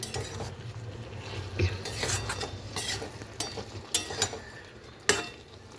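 Mustard paste masala is sautéed and stirred in a pan, with a soft low sizzle and intermittent spoon scrapes and metallic clinks against the pan, close but fairly quiet, no talking.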